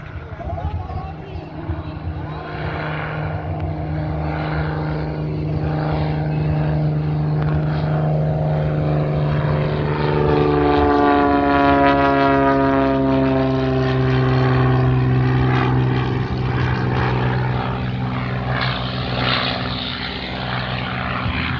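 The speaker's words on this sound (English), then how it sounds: "just a bunch of little planes you see at normal airports" A small propeller plane at an airshow drones steadily, its engine pitch sweeping as it passes, with a faint voice talking over the continuous hum.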